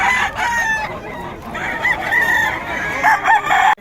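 A Sweater breed gamefowl rooster crows close by, its drawn-out calls rising and falling several times in quick succession against faint background noise.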